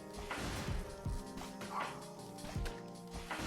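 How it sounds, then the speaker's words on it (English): A dog barks several times in short, sharp bursts close by, over steady background game sounds from a Pokémon Unite Master Rank match. "Bailey, why are you barking?"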